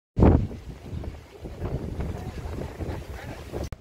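Strong wind gusts across the microphone on a hillside near Neral and Matheran, a loud low rumbling blast at the start and then steady buffeting, with voices speaking over it.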